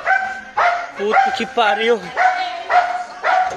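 Several sharp dog barks and yips in quick succession, close by and loud, with a whining bark in the middle and a person exclaiming briefly.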